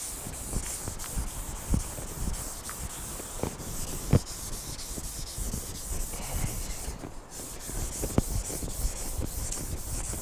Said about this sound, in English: these little pieces of sandpaper I really don't like